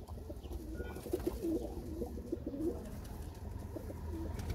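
Pigeons in a loft of Iranian breed birds coo steadily in low, rounded repeated calls, several birds overlapping close by over a constant low room rumble.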